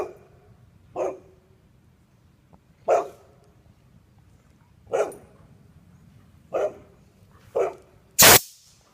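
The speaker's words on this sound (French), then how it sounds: "je me promenais avec mes deux de mes chiens, Kimo, ici," A dog barks sharply several times at roughly even intervals, each bark distinct against a quiet background, ending with a louder burst.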